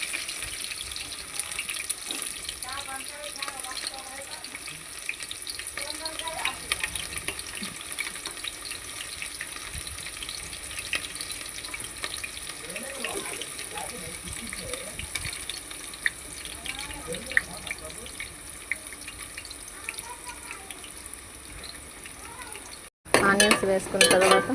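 Chopped onions go into hot oil for a chicken curry and give a faint, steady sizzling hiss with light stirring, quiet and without talk.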